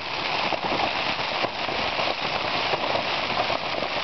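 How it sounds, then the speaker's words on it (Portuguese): Heavy rain drums hard on a camping tent in strong wind, a continuous dense patter with sharper crackling hits throughout and no voices. "Agora tá uma boa chuva."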